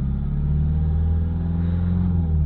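Renault Captur engine revved in a workshop, a steady low rumbling drone that stays even and fairly loud throughout, with no voices.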